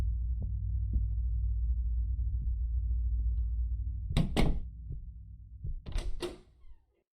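A door opens in a horror video game set in a basement, with two heavy clunking bursts heard over a steady low droning hum and faint soft thumps, then the sound cuts to silence.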